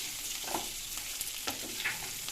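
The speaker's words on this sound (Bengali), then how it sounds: "বেগুনটা যখন আস্তে আস্তে একটু ভাজা হবে" Eggplant pieces frying in oil over a high flame, a steady close sizzle with soft crackling pops throughout the short stretch.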